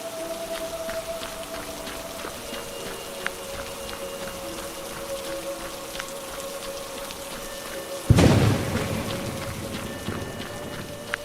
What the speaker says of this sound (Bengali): এমন সময় আচমকা বৃষ্টির গতি বাড়ল।